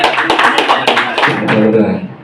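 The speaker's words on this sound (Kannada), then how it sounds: "ಎಲ್ಲರೂ ಒಂದು ಚಪ್ಪಾಳೆ ಹೊಡೆಯುತ್ತಾ ಅವರಿಗೆ" An audience at a Kannada classical music school event claps in a brief burst of dense applause. The clapping is loud and fades near the end, with voices mixed in.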